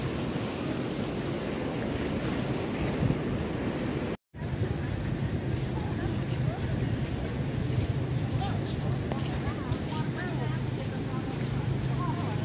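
Water of the Narayani river flowing, heard as a steady, fairly loud broadband rush mixed with wind buffeting the microphone, continuous apart from a brief dropout partway through.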